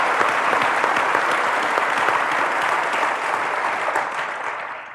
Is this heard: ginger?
no